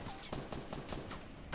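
Quiet, rapid bursts of automatic gunfire during a video game shootout, several sharp shots in quick succession with no talking.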